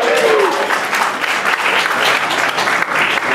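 An audience claps through a film tribute event, a dense, steady wash of applause that runs close and loud for the whole stretch, with no talk.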